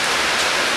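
Steady, loud rain pours down in a dense, continuous hiss with no break and no voices, filling the whole short moment.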